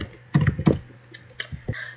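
Computer keyboard being typed on, a few quick clustered clicks and taps close by, then scattered single keystrokes.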